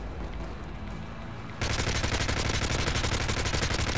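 Gunfire in Call of Duty: Modern Warfare 3, starting after a quieter stretch of game noise and turning into a loud, rapid, continuous automatic burst that runs steadily to the end.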